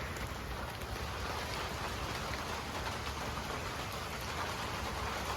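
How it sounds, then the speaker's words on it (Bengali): Heavy rain pours down steadily in a rural farming area, a dense, unbroken hiss of drops striking surfaces close by, with no voices and only a faint low rumble underneath. "সকাল থেকেই প্রচুর বৃষ্টি আজকে,"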